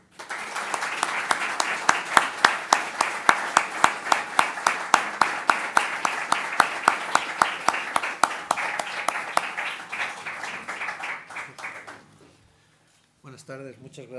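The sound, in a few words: audience applause for a guest speaker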